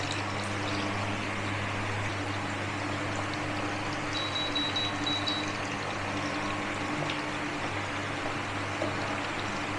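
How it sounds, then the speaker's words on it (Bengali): Homemade masala potato chips fry in hot oil in a kitchen pan, a steady, soft bubbling hiss that holds even and unbroken from start to finish, with no voices. "একটু জল ছিল বলে ছিটকাচ্ছিল"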